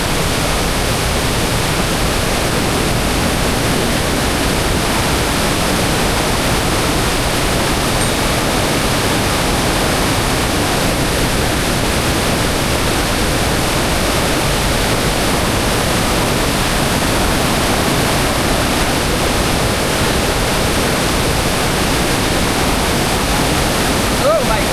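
A waterfall in Buscalan, Kalinga, Philippines roars with a dense, constant rush of falling water, loud and unbroken throughout.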